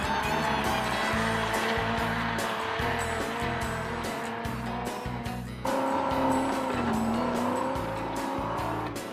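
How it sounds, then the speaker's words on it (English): A Hyundai rally car climbs the Goat Run, a steep, rough hill climb that tests traction, its engine revving hard and tyres scrabbling. The engine note rises and falls through gear changes, loud and close throughout. "This is the Goat Run, a traction testing, chassis grinding, engine boiling climb."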